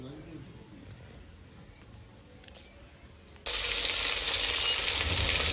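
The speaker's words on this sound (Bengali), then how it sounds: "পমফ্রেট মাছ ভাজাভাজি চলছে।" Pomfret fish frying in a home kitchen: after a few seconds of quiet background, a loud, steady sizzle and spatter suddenly begins close to the pan and continues without a break.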